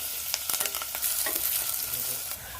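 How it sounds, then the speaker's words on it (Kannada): Onion, cumin and curry leaves frying in hot oil for an idli kurma, a loud continuous close sizzle with scattered pops and the scrape of stirring. "ಹಸಿ ವಾಸನೆ ಹೋಗೋ ಗಂಟ ಫ್ರೈ ಮಾಡ್ಕೊಳ್ಳೋಣ."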